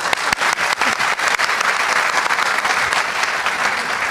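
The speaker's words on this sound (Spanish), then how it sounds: "Un aplauso para el hermano." A church audience breaks into dense, loud applause that carries on steadily for a few seconds, with sharp individual claps standing out at the start.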